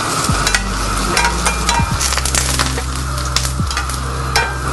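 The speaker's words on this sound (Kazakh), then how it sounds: "Біз бірінші осылай бринзамызды, шампиньонымызды майға қуырып аламыз." Brynza cheese and champignon mushrooms frying in hot oil in a pan, a steady close sizzle with crackling pops and occasional scraping or stirring sounds throughout.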